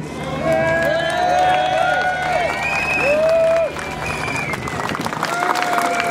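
A crowd at a PCS union rally outside the National Gallery claps and cheers steadily throughout, shrill wavering whistle-like tones rising above the dense, loud roar, with voices mixed in.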